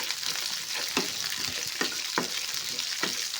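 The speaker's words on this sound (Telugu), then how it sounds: "తర్వాత సన్నగా తరిగిన ఒక ఆనియన్ తీసుకొని ఆనియన్ కూడా బాగా ఫ్రై చేసుకోండి" Finely chopped onion fries in a pan for a banana fry tempering: a continuous close sizzle broken by regular scraping stirs roughly every second.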